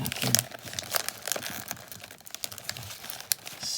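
Paper gift wrapping handled and slid off a package, close crinkling and rustling in irregular bursts, with faint crackles throughout and no clear talk.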